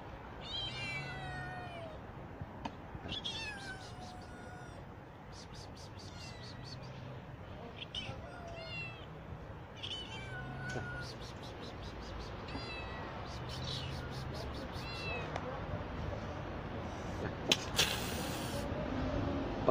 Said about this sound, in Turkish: Anne kedi yavrusuna kızıyor şimdi.